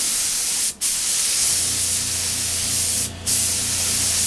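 A spray gun hisses steadily as it lays white base coat paint onto Yamaha FZ600 motorcycle parts, in two long close bursts broken by brief pauses in the trigger, with no talk.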